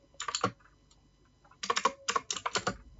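Quick bursts of key presses on a computer keyboard as a sample number is entered, a short cluster of clicks, a pause, then several rapid clusters, close and clear in a quiet room.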